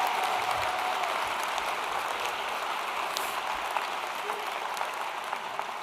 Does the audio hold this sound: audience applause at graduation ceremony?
yes